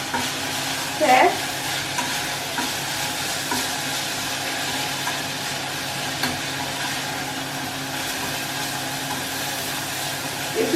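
Greens sizzle steadily in a hot pan as they are stirred, a continuous bright crackle with occasional scraping knocks of the utensil, close and alone.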